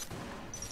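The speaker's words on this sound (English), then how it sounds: "The Luxon Cannon. Also a pretty good one, easy to use." Luxon Cannon firing in the video game Exit the Gungeon, a brief burst of dense, overlapping weapon blasts with a bright synthetic whine near the end, loud and without speech.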